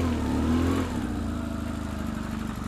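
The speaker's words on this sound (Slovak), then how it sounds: "Môžem si naštartovať motorku." A motorcycle engine, running on a somewhat weak battery after an oil change, turns over and settles into a steady mid-pitched idle with a rapid, even pulse, close by and with no one speaking.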